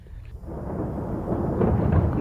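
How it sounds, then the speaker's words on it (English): Low, rolling thunder from a storm building outdoors near a campsite, a deep continuous rumble that swells gradually in loudness over a couple of seconds with no voices. "We have thunder back here."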